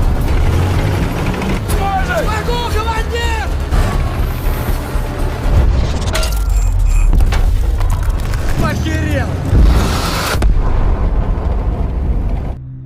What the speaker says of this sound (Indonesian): Dengan satu tembakan telak dari dasar, T-34 berhasil menghancurkan satu tank musuh.